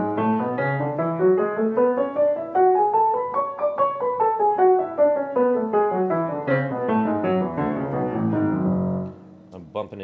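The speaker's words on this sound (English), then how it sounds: "So major scales will kind of sound like this when I'm practicing them." A jazz pianist practices major scales, the notes climbing steadily upward and then running back down in an even rhythm, played alone at moderate volume before fading to near silence.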